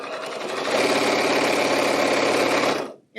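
A home sewing machine stitches quilt block pieces together, a steady, close, continuous mechanical whir with fast needle rhythm that runs unbroken for nearly three seconds before cutting off abruptly.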